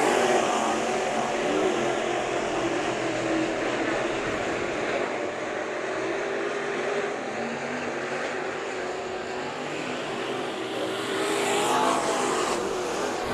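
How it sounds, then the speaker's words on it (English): Race cars roar around the Bakersfield Speedway dirt oval during a heat race, a dense continuous engine drone from several cars at a distance, rising and falling steadily for the whole stretch. "they are racing hard for the redraw spot"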